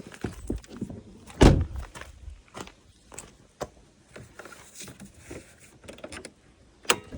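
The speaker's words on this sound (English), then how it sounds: "First step, we'll open the door up." A car door on a 2013-2019 Ford Escape 1.5L opens with one firm thunk of the latch, followed by quieter clicks and handling noises in a garage.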